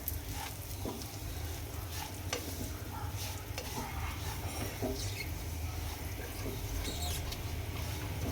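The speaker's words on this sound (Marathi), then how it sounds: "हा जो रवा आहे तो भाजून घ्यायचा आहे मस्त असा आपण आता भाजून घेऊ रवा" Semolina (rava) for jaggery lapshi porridge roasting in a pan, stirred steadily with a soft, continuous dry scraping and light patter that stays close and even throughout, with no talking.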